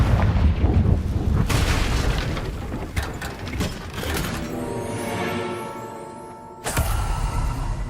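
Confringo fire spell going off in Hogwarts Legacy: a booming blast with crackling bursts, a sharp crack near four seconds, then a ringing, fading tail and another loud burst near the end, with no talking.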